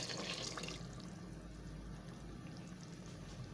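Water poured into a pot of potato and pea rice (aloo matar chawal) with tomato, green chili and ginger, a faint continuous splashing and trickling pour, more intense at the start, no talk.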